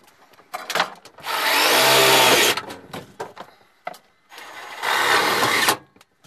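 A power driver whines in two sustained bursts as screws go into an HVAC duct collar, each run about two seconds long, with sharp clicks and metallic handling noises between them, close and loud.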